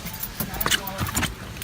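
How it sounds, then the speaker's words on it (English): Keys jangle in short metallic bursts close by, grabbed before heading out in heavy rain, with people talking over the rattling. "get the keys."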